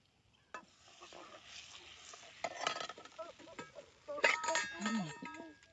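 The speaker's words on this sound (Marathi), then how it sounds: "आता जरा मसाला तळून घेणार आहे मी." Dhangari masala and garam masala fry in a pan with light sizzling, while a spoon scrapes and clinks against the pan in irregular bursts. A few faint vocal sounds come through.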